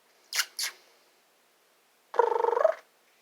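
A house cat nearby gives two brief soft puffs, then after a pause a short, fluttering, pulsed purr-like trill, close and clear in a quiet room.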